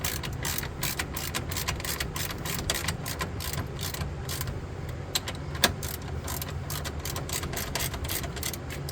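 A ratchet clicks in rapid, even bursts while a nut is tightened back on during a Gen2 Toyota Prius hybrid battery rebuild, close and fairly quiet with a small metallic clink near the end.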